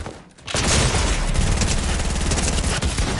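Combat SMG gunfire in Fortnite, a dense, loud, continuous burst of rapid shots that starts abruptly after a brief quiet moment and keeps up without a break.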